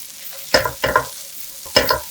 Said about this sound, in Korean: 대파 넣고 골고루 볶아 향긋한 대파 기름을 내주고요